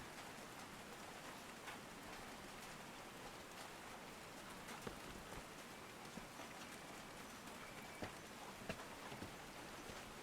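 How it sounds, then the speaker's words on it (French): Light rain falls in the video game Call of the Sea, a soft, even hiss of fine drops with occasional faint ticks of individual raindrops, quiet and steady throughout. "une petite pluie fine s'est mise à tomber alors que le soleil se levait"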